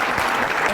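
Audience at an Amharic comedy show gives a brief, even wash of applause, loud and close with no breaks.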